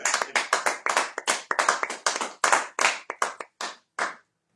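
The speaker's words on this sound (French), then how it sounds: "Est-ce qu'on peut acclamer pour le Seigneur?" A church congregation claps together for the Lord in a steady rhythmic beat of sharp hand claps. The claps are close and loud, then thin out and stop near the end.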